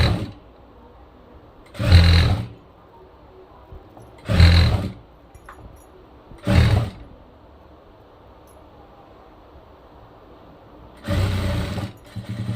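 A sewing machine stitching blouse fabric in four short whirring bursts of about a second each, separated by quiet pauses, close and alone.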